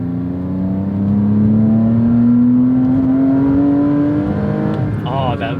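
A Porsche Cayman S (987) engine revs steadily, its tone rising smoothly over several seconds in a loud, sustained drone, with a brief burst of other noise near the end.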